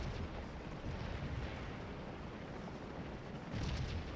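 Dense, continuous massed infantry musket fire from the Civil War strategy game Scourge of War: Antietam, a steady rolling crackle of volleys at close range that swells slightly near the end, with no talking.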